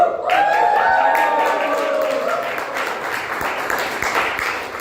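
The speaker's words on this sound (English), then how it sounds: "So give me a loud cheer if you know who I'm talking about." Audience at a Toastmasters club meeting claps and cheers loudly, with whoops and shouted voices over steady broadband applause lasting the whole stretch and easing slightly toward the end.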